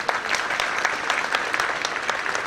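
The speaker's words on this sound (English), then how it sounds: "You should all give her a good clap." Audience applause at a school annual day celebration, a dense, even patter of many hands clapping at moderate loudness with no talk over it.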